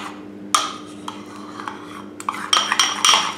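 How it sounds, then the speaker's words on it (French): Cream being mixed with gelatin in a bowl for a lemon bavarois, heard as close spoon-and-bowl scraping and clinks, sparse at first then more frequent, over a low steady hum. "Il faut bien mélanger comme il y a de la gélatine"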